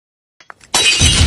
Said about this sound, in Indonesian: Pakai acara mecahin kaca jendela segala